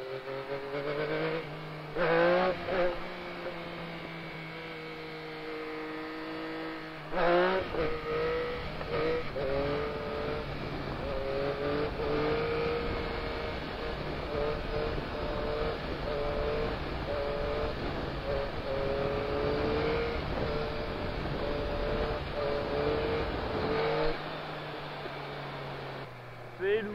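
A Yamaha MT-09 motorcycle being ridden after running-in, its engine droning steadily with rising and falling revs and gear changes, a rider talking over it close to the microphone.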